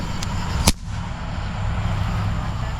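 A single sharp firework bang at a July 4th celebration in Texas, heard outdoors with a faint earlier pop over a steady background of crowd and ambient noise.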